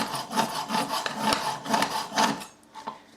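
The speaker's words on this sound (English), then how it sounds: "use a whetstone, use a knife sharpener, whatever you've got" A kitchen knife is sharpened on a whetstone in a steady run of rhythmic rasping strokes, about two per second, close and fairly loud, ending with a couple of softer strokes.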